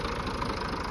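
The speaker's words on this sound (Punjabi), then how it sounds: "ਇਹ ਬੱਚੇ ਸ਼ੌਕੀਨ ਨੇ ਭਾਈ ਟਰੈਕਟਰਾਂ ਦੇ ਤੇ ਟਰੈਕਟਰ ਲੈ ਕੇ ਚੱਲਦੇ ਆ" A tractor engine idles close by, a steady low mechanical rumble with a regular throbbing pulse and no voices.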